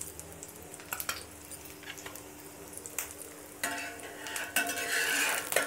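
Omelette frying in a pan as extra oil is poured around its sides, a soft steady sizzle that grows louder and brighter in the second half, with faint scrapes and stirring clicks near the start.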